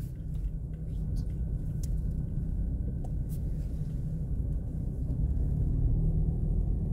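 Steady low rumble of cars moving along a seaside street near a pier in Camocim, Brazil, continuous and fairly close, with faint voices murmuring underneath.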